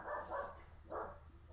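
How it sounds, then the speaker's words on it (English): A dog barks somewhere in the background during an indoor podcast recording, three short, faint yaps spaced unevenly apart. "It's just a dog."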